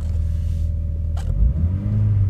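A Volkswagen Corrado's six-cylinder engine idles with a steady, deep low rumble close by, rising briefly in a slight rev before settling again.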